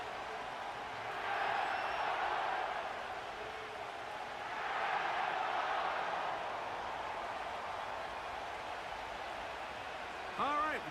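A large stadium crowd at SoFi Stadium in Inglewood, heard in an EA Sports NFL game, roars in broad swelling waves before kickoff. A voice speaks over it.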